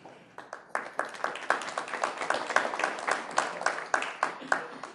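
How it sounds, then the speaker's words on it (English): Scattered rhythmic clapping from a small crowd at a Sioux Falls city council meeting, moderately loud and steady for a few seconds. "If we could hold the applause."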